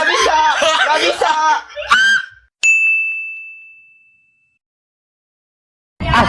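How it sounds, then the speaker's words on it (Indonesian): A gaming sound effect of a shrill scream breaks out after excited shouting, followed by a sharp ding that rings and fades into silence before voices return. "jangan teriak-teriak ngapa?"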